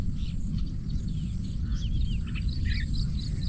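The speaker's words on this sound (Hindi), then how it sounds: "ये चिड़ियों की चहचहाट, पक्षियों की, जितने भी पक्षी हैं उनकी चहचहाट बहुत अच्छी लग रही है" Birds chirp and whistle in a jungle, their short calls scattered over a loud, steady rumble of wind and rain.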